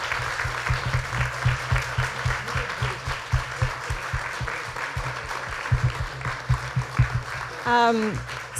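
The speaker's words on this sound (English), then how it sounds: "Let's give them a round of applause." A crowd at a bookstore book event claps steadily for several seconds, the applause dense and continuous, ending as a voice starts speaking at the close.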